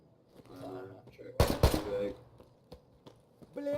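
Gunfire in the video game Escape from Tarkov, a short, sharp burst of several loud shots in quick succession in the middle, with someone talking quietly before and after.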